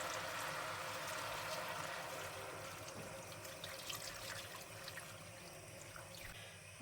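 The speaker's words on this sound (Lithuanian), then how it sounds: "Užpilsiu vandenuko" Water poured over frozen vegetables in a pot runs as a faint, steady trickling stream, ending with a small clink of the pot, no talk.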